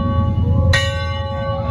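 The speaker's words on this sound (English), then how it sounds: "They just rang that bell." A loud bell at a train museum strikes once, its bright ringing overtones sustaining and slowly fading over a steady low rumble of background noise.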